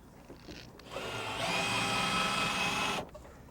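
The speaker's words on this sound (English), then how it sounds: "then I'll countersink the head so this screw fits in there real nice" A power drill countersinks screw holes in a boat hull where old rivets were drilled out, the bit biting in with a rising whine that holds steady for about two seconds and then cuts off, set against quiet room noise.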